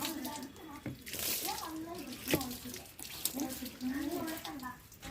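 An object is scrubbed and rinsed by hand under running water, with splashing and rubbing heard close and fairly quiet, while a person talks intermittently over it.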